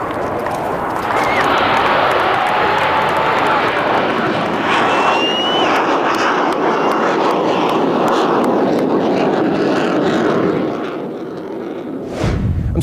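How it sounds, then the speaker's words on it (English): An F-14 Tomcat jet on its last flight roars loudly and steadily overhead, a broad engine rumble that holds for about ten seconds before easing off near the end. "Ladies and gentlemen, the last flight of the F-14 Tomcat."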